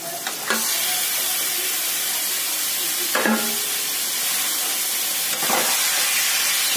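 Marinated chicken hits hot masala in a pan and sizzles steadily and loudly, with a dense frying hiss throughout and three brief bursts of stirring or spoon scrapes.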